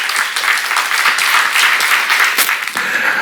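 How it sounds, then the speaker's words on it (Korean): A church congregation clapping together, loud and dense continuous applause filling the room from start to finish. "박수 한번 치세요."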